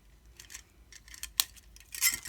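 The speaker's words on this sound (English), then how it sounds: "Let me go ahead and cut this off of the strand." Scissors snip through a bead strand with one sharp, close click, amid small rustles and the light clink of Labradorite and druzy beads being handled at a craft table.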